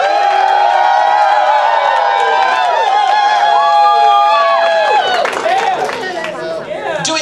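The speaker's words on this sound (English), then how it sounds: "Your opinion via applause and cheers." Wedding reception guests break into loud cheering, whooping and applause, a dense crowd roar with clapping that swells and then thins toward the end.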